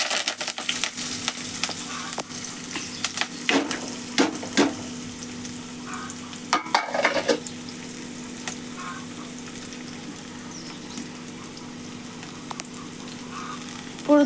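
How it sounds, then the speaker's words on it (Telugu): Onion, green chillies and curry leaves hit hot oil with a moderate crackling sizzle and sharp spatters. The frying settles into a quieter, steady hiss with occasional pops and stirring clinks. "ఇప్పుడు దానిలో ఉల్లిపాయ, పచ్చిమిరపకాయ వేసుకుందాము"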